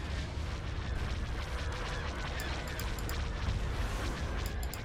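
Ship weapons firing in a Star Wars: Empire at War space battle, a steady dense roar of rumbling blasts and cannon fire with faint bright laser pings, mid-distance and continuous without a break.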